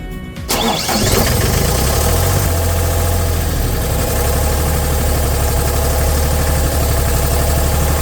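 A JLG 450AJ boom lift engine cranks briefly, catches and settles into a loud, steady idle with a low, even drone, heard up close.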